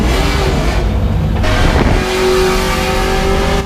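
IndyCar race car engine screaming at high revs on a racetrack, a loud, dense, continuous roar with shifting pitch as the car passes close by, no talking.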